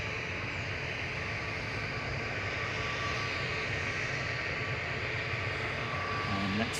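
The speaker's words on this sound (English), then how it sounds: "That was Jet2 off to Geneva, flight 811. A320-200 Neo G Sun J." A Jet2 Airbus A320neo departs Manchester Airport for Geneva, its loud, steady broadband jet roar filling the whole stretch without letup.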